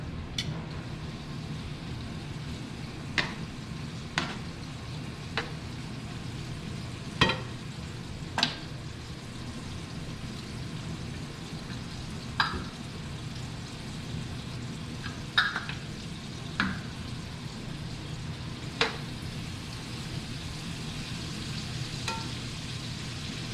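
Shrimp scampi fries in a pan beside spaghetti squash, a low steady sizzle running throughout with scattered sharp pops and crackles spread irregularly over about twenty seconds, fairly quiet and with no voices.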